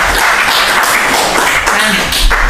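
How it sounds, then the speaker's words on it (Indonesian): Dense, loud audience applause for a military intelligence guest at a talk event, continuous clapping filling the whole stretch. "kita beri tepuk tangan dulu buat Asintel"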